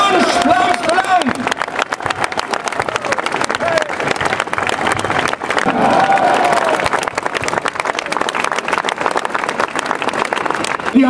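Crowd at a Pegida rally on the Neumarkt in Dresden applauding and cheering loudly outdoors, dense clapping sustained throughout with voices and shouts mixed in.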